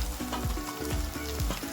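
Grated fresh tomato paste sizzles and spatters in a hot pan as it is sautéed and stirred, a close, continuous frying crackle with regular scraping strokes.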